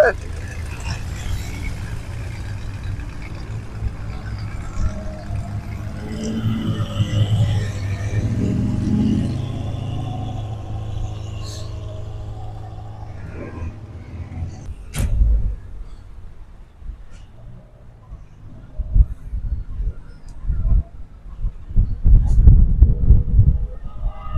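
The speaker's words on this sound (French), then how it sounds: "Départ de cette BMW M4 ici quand même." A BMW M4 driving away, a low engine rumble that builds, fades, then returns with revving bursts toward the end, heard outdoors with people talking nearby.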